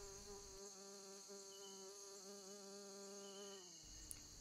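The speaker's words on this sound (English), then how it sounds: "And also the very low tones of the bee buzzing." Steady insect buzzing with a low droning hum and a wavering pitch, close and continuous, tapering off near the end.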